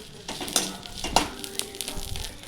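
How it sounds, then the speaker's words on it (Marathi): Green chilies and curry leaves fry in a little oil for chivda, with a soft sizzle under scattered spoon-on-pan clinks and stirring scrapes, fairly quiet and close. "आणि हे असं आपल्याला कढीपत्ता आणि मिरची पण छान अशी भाजून घ्यायची आहे एकदम व्यवस्थित."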